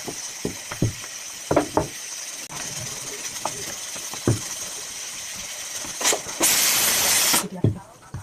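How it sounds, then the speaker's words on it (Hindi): A pressure cooker cooking rajma in a home kitchen lets out a loud burst of hissing steam whistle lasting about a second, over faint kitchen clatter and soft background hiss. "थोड़ा थोड़ा कुकर में से सीटी आनी चालू हो गई।"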